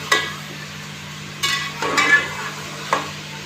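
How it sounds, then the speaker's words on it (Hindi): Chicken frying in a pan with garam masala and small pieces of bay leaf for dum biryani, heard as a few short scraping stirs and clinks over a steady low sizzle. "गरम मसाले के साथ खूब अच्छी तरह से चिकन को फ्राई करेंगे"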